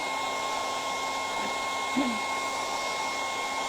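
A hair dryer blows steadily on wet paint over a stencilled sign, a constant close whooshing hum that runs without a break for the whole stretch, with a faint voice briefly underneath.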